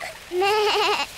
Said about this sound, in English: Here is Susie Sheep on her toboggan.